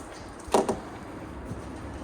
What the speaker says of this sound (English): We're gonna open the door fully extended